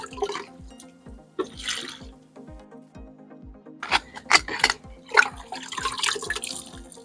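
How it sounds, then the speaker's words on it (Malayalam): Liquid fertilizer poured onto the base of a bitter gourd plant, giving scattered splashy gushes that swell in the second half over a steady low hum, with no talk. "ഇത് നമുക്ക് ഇതിൻ്റെ ചൂട്ടിലേക്ക് നമുക്ക് ഇങ്ങനെ ഒഴിച്ചു കൊടുക്കാം"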